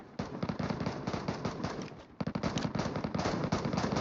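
Rapid bursts of automatic gunfire from PUBG Mobile's Metro Royale mode, dense overlapping shots rattling in quick succession with a brief lull midway before firing resumes, loud and close.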